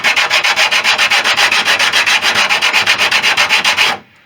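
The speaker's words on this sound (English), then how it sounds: "Of cleaning up the excess glue, I'm just using a little block. It's got some 80 grit on it currently." An 80 grit hand sanding block rubbed rapidly back and forth over excess glue on plywood aircraft skins, a loud, close, regular rasping rhythm of about twenty strokes that stops abruptly.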